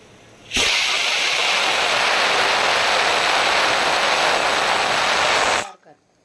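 A loud, steady rush of hissing steam from a pot of boiling chicken biryani lasts about five seconds, then cuts off abruptly.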